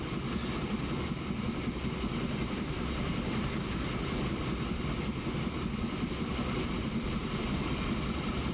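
Steam train in the game Transport Fever chugging along at a steady, dense rumble, continuous and fairly loud throughout with no talk.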